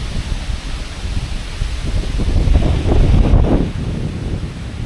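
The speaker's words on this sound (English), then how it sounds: "So I do apologise for this wind." Gusty wind buffets the microphone outdoors among trees in a cemetery, a steady broadband roar with low thumping that swells louder around the middle and fades slightly toward the end, with no voice over it.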